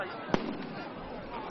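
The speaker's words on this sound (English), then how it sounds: "judging by the array of fireworks being set off on the banks of the Heilongjiang, I get the feeling this party is only just starting." Fireworks set off on the riverbank of the Heilongjiang during a winter festival: a dense continuous crackle and rumble with two sharp bursts, heard at a distance, with voices faintly present.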